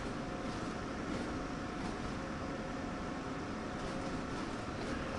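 Steady rumbling run of a train in Train Sim World 3, a continuous broadband roll of wheels and motor holding at speed, close and even throughout with no voices.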